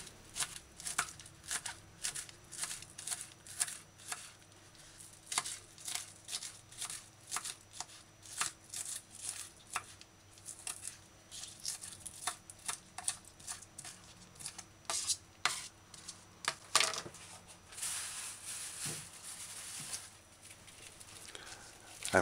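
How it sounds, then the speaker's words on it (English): A knife finely dicing scallion on a cutting board for a vegan broccoli coconut stew, giving a steady run of quick, close, crisp chopping taps with short pauses and no talking. "Dice scallion fine."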